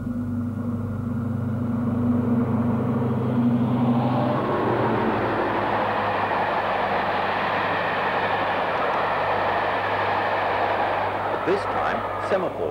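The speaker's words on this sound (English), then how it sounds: "55009 again, this time on a down express." Diesel locomotive 55009 hauls a down express past semaphore signals at Newark, its loud, steady engine and wheel roar filling the whole stretch, with a low engine drone early on and a few sharp rail squeals near the end.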